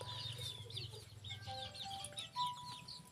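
Several chickens cluck and chirp close by, with short bird calls overlapping over a steady low hum.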